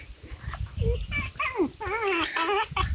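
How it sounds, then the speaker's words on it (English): A dog shut behind a closed gate to a goat pasture on a farm in Bohol, Philippines, whimpers in a string of high, wavering whines and short yelps, close and fairly loud. "The dog is very sad because I closed the gate going to the second park of the goat and she cannot go to Christian."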